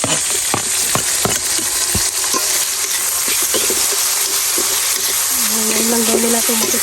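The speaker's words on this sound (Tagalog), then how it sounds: "igisa na natin ang ating kamatis" Tomatoes sauté in a pan with a steady sizzle, broken by scattered sharp clicks and scrapes of a stirring utensil, while a voice hums or speaks briefly near the end.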